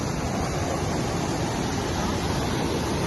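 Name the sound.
dam water welling up from below, surging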